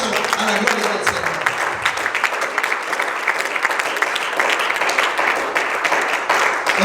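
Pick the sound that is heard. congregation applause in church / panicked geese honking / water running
congregation applause in church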